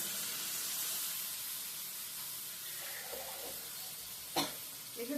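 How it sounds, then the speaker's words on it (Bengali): Water poured into a pan of fried cauliflower, a steady hissing sizzle and watery rush filling the clip, followed by a brief clank and small sounds near the end. "আমি দু কাপের মতো জল দিয়ে দিলাম"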